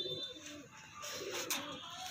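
Saharanpuri pigeons coo softly outdoors amid steady background noise, a faint low cooing that runs through the moment without clear breaks.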